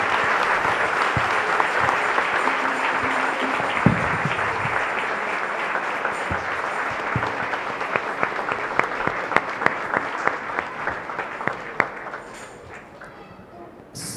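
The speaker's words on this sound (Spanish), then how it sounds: "Démosle un aplauso por su aniversario." A church congregation at a jubilee Mass claps together in sustained applause, a dense roomy patter that holds steady, then thins into scattered claps and fades toward the end.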